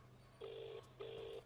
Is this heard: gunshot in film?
no